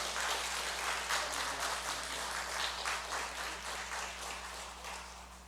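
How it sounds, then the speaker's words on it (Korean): Steady applause from a church congregation fills the room, many hands clapping together and holding at an even level over a low hum. "우리 축복의 박수 해주시기 바랍니다"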